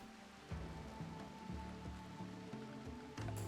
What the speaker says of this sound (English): You might notice the rain falling, and it's not falling over here.